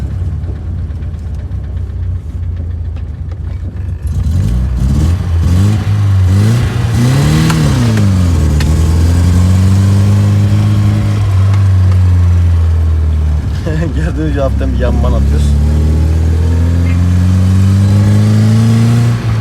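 A BMW E30 that has been restored after a heavy crash, driving and accelerating with a loud engine that rises and falls in pitch through several revs and gear changes, while someone speaks briefly over it.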